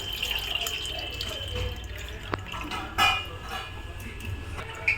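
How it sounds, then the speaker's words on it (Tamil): Soaked tamarind is squeezed and dissolved in water by hand for a pepper kuzhambu, giving soft, faint, wet sloshing and squelching with a couple of sharp clicks. "நம்ம வந்து ஊற வச்ச புளியை வந்து நல்லா கரைச்சி ரெடி பண்ணிக்கலாம்"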